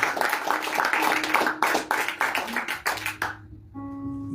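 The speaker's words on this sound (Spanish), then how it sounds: "Dale un fuerte aplauso si lo crees" Church congregation clapping during a Spanish-language sermon, a dense burst of handclaps that thins out and stops, followed by a sustained keyboard or organ tone.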